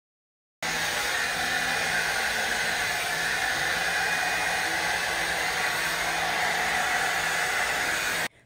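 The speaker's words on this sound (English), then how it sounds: "I'm very gentle when blow drying" A blow dryer switches on and roars steadily with a strong airy hiss for several seconds while drying natural hair, then cuts off abruptly at the end.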